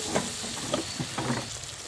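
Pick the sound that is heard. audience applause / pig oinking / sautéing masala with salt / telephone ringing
sautéing masala with salt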